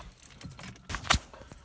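Car keys jingle in a few short metallic bursts, with a louder clink near the end, close by and otherwise quiet.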